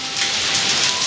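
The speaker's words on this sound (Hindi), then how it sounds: "देखो भाई कितनी तगड़ी बारिश, सर पूरी तगड़ी आंधी आ रही" Heavy rain pours steadily during a fierce windstorm, a dense, loud hiss of downpour close by with no talking.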